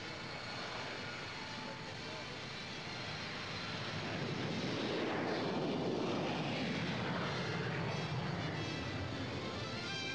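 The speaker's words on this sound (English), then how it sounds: "His Majesty King Khaled's private Boeing 747 waits on the tarmac" A private Boeing 747 jet sits on an airport tarmac, its engines giving a steady broad whine and roar that swells louder toward the middle, heard from some distance with a narrating voice over it.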